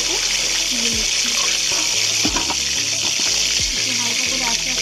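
Rose-shaped chicken pakoras fry in hot oil, a dense, loud, continuous bubbling sizzle with occasional clinks of a utensil.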